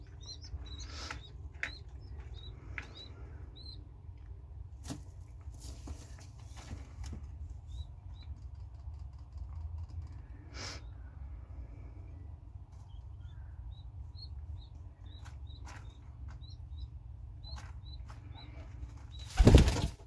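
A pet pigeon lands heavily in an indoor loft with a burst of flapping wings near the end, while faint chirps and soft shuffling fill the quiet room beforehand.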